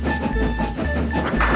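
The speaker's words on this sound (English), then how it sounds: "Thomas went on, happily completing his shunting in the yard" Thomas the Tank Engine shunting in a railway yard: rhythmic clattering of wagons with steam hissing and steady rolling noise, close and fairly loud.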